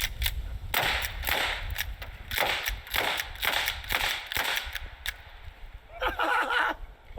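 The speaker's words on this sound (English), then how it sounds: "how about a little bit of slam fire into these windshields?" Slam fire from a shotgun-style weapon in the video game Fractured Genesis, shot into vehicle windshields. Around ten punchy blasts come in quick, fairly regular succession, moderately loud, with faint background noise.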